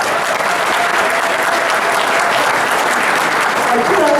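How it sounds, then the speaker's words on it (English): An African American Caucus audience gives a big, loud round of applause, thick and unbroken for the full stretch, with crowd voices mixed into the clapping. "Give yourselves a big round of applause."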